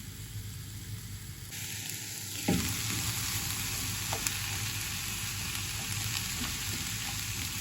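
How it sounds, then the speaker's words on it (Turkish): A steady, crackling sizzle of chopped onions frying in butter in a hot pan, loud and continuous, with a short clink of a utensil. "2 kaşık tereyağım var. Şimdi onları kavuracağım."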